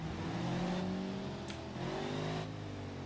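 A car engine in BeamNG Drive idles and revs with a steady whirring drone, pitch rising and falling a few times, fairly quiet.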